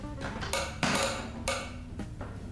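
Plastic lid of a Zinsano Bucket 18 pressure washer bucket being closed, a few sharp clacks and knocks in quick succession, close and fairly loud, with no talking.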